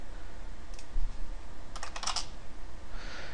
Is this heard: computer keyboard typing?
yes